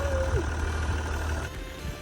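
A truck engine runs steadily again after a cold-weather restart, giving a continuous low idling rumble with a brief tone dipping early on.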